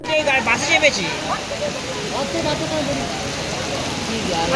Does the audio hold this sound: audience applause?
no